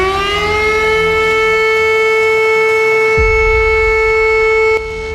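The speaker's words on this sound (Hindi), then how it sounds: "मॉक ड्रिल के दौरान बत्ती बंद हुई और सायरन शुरू।" Civil defense air raid siren sounding during a city-wide blackout mock drill in Patna, a loud steady wail holding one sustained pitch for several seconds before cutting off abruptly near the end, with no talking over it.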